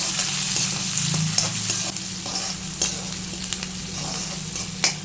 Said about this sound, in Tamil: ஆனியன் நல்லா ஃப்ரை ஆகிடுச்சு